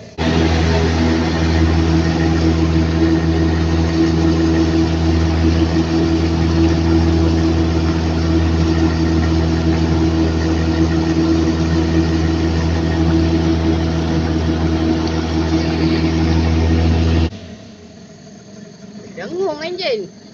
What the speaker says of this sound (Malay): Dengung enjin.